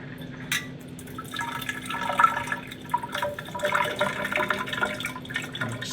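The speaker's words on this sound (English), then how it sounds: "I think I'm going to give up here and just pour it straight in." Ice water poured from a pitcher into a cylinder gives a continuous close trickling and splashing, with small drips and clinks throughout.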